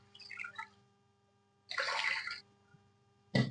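Half a kilo of water is poured into a pressure cooker for steaming sweet potatoes in a kitchen. It comes in three short splashing bursts separated by quiet gaps.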